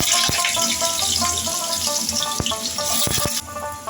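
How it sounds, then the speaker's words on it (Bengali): Potatoes fry in hot oil, giving a loud, close, steady sizzle broken by sharp crackles and pops, with no talking. "প্রথমে আমি আলুগুলো ভেজে নেব"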